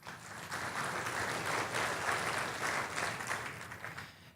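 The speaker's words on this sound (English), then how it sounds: "So give yourselves a round of applause for attending this event." Attendees at the GeekWire Summit 2013 tech conference applaud in a large hall, dense sustained clapping that swells and holds for several seconds, then fades slightly near the end.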